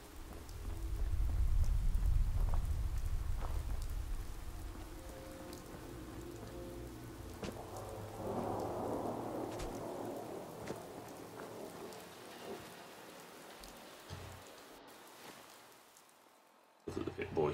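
Rain and a thunderstorm in the Fallout 4 game world, a steady pattering downpour with a low rumble early on, continuing under quieter ambient sound before briefly cutting off near the end.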